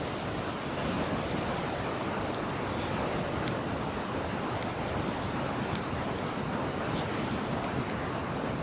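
Niagara Falls at night: a steady, dense roar of falling water fills the scene evenly from start to finish, with faint scattered clicks and distant activity sitting above the continuous rumble.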